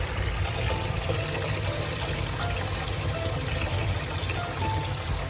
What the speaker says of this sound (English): We're gonna fill up our sink here with water